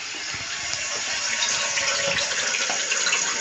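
Water rushes steadily into a toilet cistern, a continuous hissing flow that stays even and close for a few seconds.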